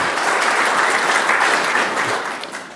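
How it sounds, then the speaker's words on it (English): A room of meetup attendees applauds loudly and steadily for a few seconds, close dense clapping that eases off slightly toward the end. "Let's give another round of applause for Austin there."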